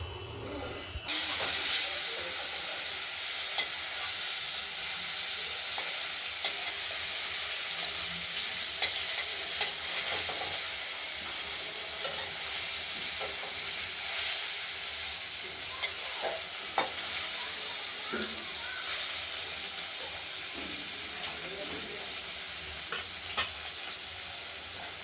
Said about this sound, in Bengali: মাছটা ভাজা হয়ে গেছে দুটো দিকেই